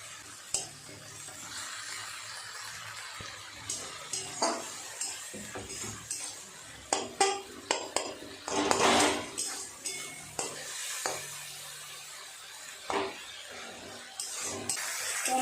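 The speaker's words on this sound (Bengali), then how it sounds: "খুব ভালো করে সমস্ত কিছু একটু মেরে চেড়ে কাঁচা গন্ধটা কাটিয়ে নেবে" Ginger-garlic paste frying in a pan with tomato and onion, repeatedly stirred and scraped by a spoon, with uneven clinks and scrapes over a soft steady sizzle, some strokes louder than others; no talking.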